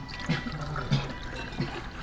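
Water trickling and filling a cup at a tap on a ramen restaurant counter in Osaka, short bursts of pouring repeating about three times against steady room background.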